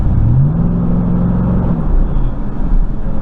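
A Chevrolet truck with a low-power fault revs under light throttle, a steady loud engine drone with a rising pitch sweep that holds and then settles, heard alone.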